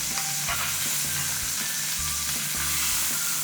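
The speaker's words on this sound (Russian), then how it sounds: "на обычную сковородку вы жарите муку в течение 5 минут для такого орехового вкуса" Continuous sizzle of flour frying in an ordinary pan, a dense crackling hiss with small pops and scraping, no voices.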